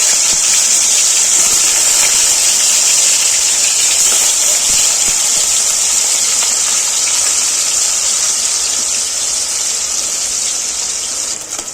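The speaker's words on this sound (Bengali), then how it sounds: "তেল গরম হয়ে গেছে, নুন হলুদ মাখা মাছ দিয়ে দেবো তেলের মধ্যে।" Salt-and-turmeric marinated fish frying in hot mustard oil, a loud, steady, dense hiss and roar of spattering oil that holds without pause throughout, close up and with no talk.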